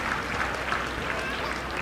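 Audience applause at a CRPF training passing-out parade, a brief, dense and steady patter of clapping from a crowd outdoors, moderately loud with a low background hum.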